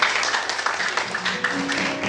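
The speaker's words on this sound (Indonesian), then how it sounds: "Tepuk tangan yang dahsyat buat Tuhan kita." A crowd at a Christmas celebration of a ministry for the blind fills the room with steady, dense applause, a continuous wash of many hands clapping at moderate loudness.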